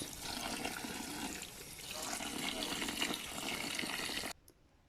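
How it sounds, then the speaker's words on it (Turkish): Albanian hot peppers are washed under a running kitchen tap, a steady, moderately loud rush of splashing water that cuts off abruptly near the end. "İlk önce biberlerimizi yıkıyoruz."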